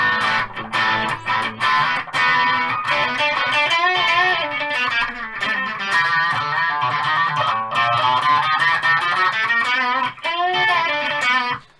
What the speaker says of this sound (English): Rat pedal.